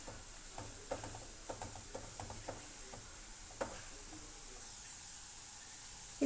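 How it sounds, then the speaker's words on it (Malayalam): Ginger frying in oil over medium heat for a Kerala inji curry, with a quiet steady sizzle broken by scattered clinks and scrapes of stirring, close and low, no talking. "തീ ഒന്ന് മീഡിയം ആക്കിയിട്ട് വേണം ഇതൊന്ന് ഫ്രൈ ചെയ്തെടുക്കാൻ."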